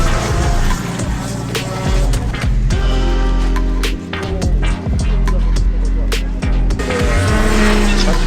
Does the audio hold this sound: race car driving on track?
yes